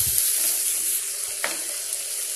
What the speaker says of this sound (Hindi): मसालों को भून लेते हैं